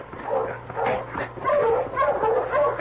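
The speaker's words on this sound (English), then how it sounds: "stop that dog there" A dog barks and yips several times in short, uneven bursts with whiny tones, fairly close, on a snowy Yukon trail in an old radio drama, with no talking over it.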